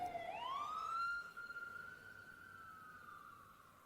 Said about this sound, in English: When a fire engine passes and its siren makes a loud noise